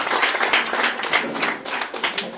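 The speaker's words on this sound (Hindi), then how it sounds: "जोरदार ताली बजाएंगे यीशु के लिए।" Sustained church conference audience applause with steady clapping that swells and dips slightly throughout, fairly close and continuous.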